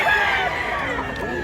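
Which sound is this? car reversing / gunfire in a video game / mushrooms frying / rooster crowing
rooster crowing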